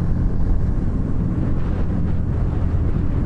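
A Harley-Davidson Street Rod motorcycle engine under throttle, heard as a loud, steady low rumble smeared by heavy wind buffeting, with no break or pause.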